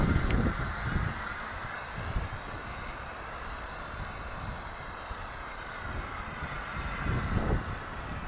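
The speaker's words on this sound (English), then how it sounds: "And that means the drone" A Hubsan 502E GPS drone flies fast in sport mode, giving a steady whirring drone hum that holds at an even level throughout with faint wind noise, and no voices.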